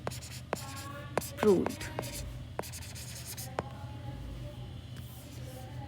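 Pen writing on paper while a geometry proof on circles is completed, with short scratchy strokes in an irregular rhythm, close and fairly faint, under a voice speaking.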